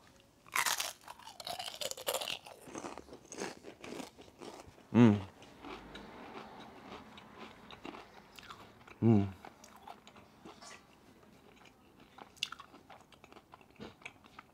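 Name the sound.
crunching homemade potato chips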